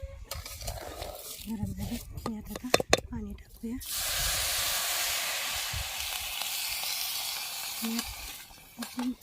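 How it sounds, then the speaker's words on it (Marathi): Rice dry-roasting in a pan on the stove gives off a steady, close sizzling hiss for the last five seconds, after a stretch of talking and a few clatters at the start. "तांदूळ आता बऱ्यापैकी भाजत आलेत"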